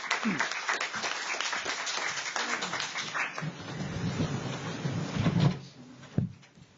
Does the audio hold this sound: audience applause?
yes